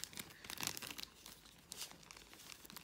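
Christmas-patterned nail art foils being handled give off faint, close crinkling and rustling, irregular soft crackles across the whole stretch, quiet and without talk.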